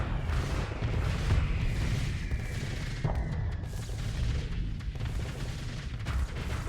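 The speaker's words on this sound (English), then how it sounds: "Keep your guns firing." Starsector space combat with the Nexerelin mod: ship weapons fire continuously in a dense, steady barrage of booms and rapid shots, with a long descending laser-like sweep cutting through the rumble.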